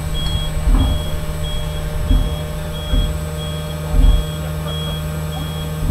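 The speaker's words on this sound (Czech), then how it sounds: "pípání pojistky, aby lidi věděli, že se něco děje" A DAF electric truck sounds its safety warning beeper, a regular series of short high beeps repeating about every second over a low vehicle hum with occasional thumps.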